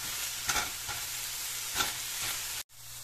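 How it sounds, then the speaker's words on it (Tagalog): Garlic, ginger and spring onion sizzle steadily in hot oil for mapo tofu, with a few scraping stirs cutting through the frying hiss before a brief drop to silence. "pwede na rin na po nating igisa ang bawang, luya at spring onion dito"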